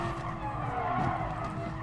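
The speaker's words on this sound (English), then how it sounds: "Car squirming all over the place." A Ferrari F40 in GT Sport at Bathurst, its tires squealing and skidding as the car squirms through corners, a continuous loud screech over the steady drone of the engine.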